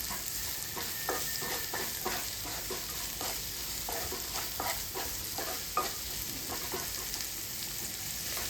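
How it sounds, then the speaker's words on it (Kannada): Chopped onions and green chillies frying in oil in a pan, with a continuous close sizzle broken by repeated stirring scrapes and taps throughout, and no talking. "ಕಟ್ ಮಾಡ್ಕೊಂಡಿರುವಂತಹ ಈರುಳ್ಳಿನೂ ಹಸಿರು ಮೆಣಸಿನ್ಕಾಯಿ ಇದೆಯಲ್ವ, ಅದನ್ನು ಹಾಕಿ ಚೆನ್ನಾಗಿ ಸಾಫ್ಟ್ ಆಗೋ ತನಕ ಇದನ್ನು ನಾನಿಲ್ಲಿ ಫ್ರೈ ಮಾಡ್ಕೋತೀನಿ."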